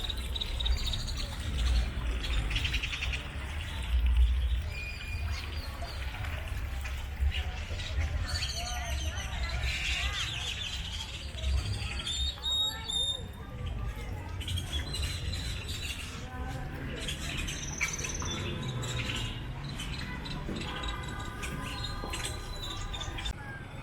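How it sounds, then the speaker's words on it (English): Hundreds of birds chirp and squawk in a town square in Copan Ruinas, Honduras, a dense, continuous chatter of tweets beneath people talking close by. "I found myself being mobbed by hundreds of birds"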